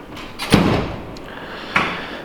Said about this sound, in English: Okay, this is my hammer drawer, all my heavy duty stuff.